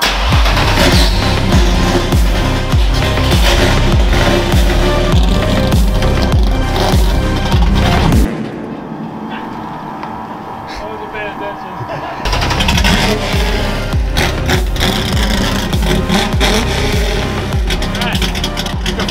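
A NASCAR-inspired Ford F100 truck being driven on mountain roads, a loud rough engine drone with rhythmic pulsing, dropping briefly quieter mid-drive before the revs climb again.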